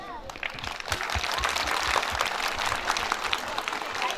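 A crowd at a Novruz holiday celebration in a village school in Masallı district claps steadily and densely, with sustained applause filling the room and voices mixed in beneath it.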